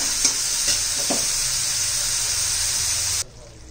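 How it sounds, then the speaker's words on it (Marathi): Fenugreek leaves cook in a hot pan, giving a close sizzle broken by a few stirring scrapes near the start. The sound cuts off abruptly just before the end. "पहिले भाजी शिजून घेऊया."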